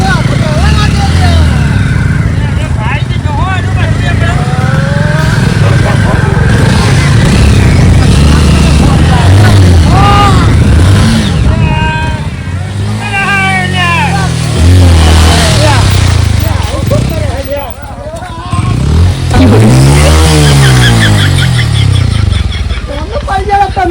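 A motorcycle runs inside a well-of-death wall at a fair, its engine revving and droning loudly in rising and falling sweeps over about 24 seconds while people talk over it.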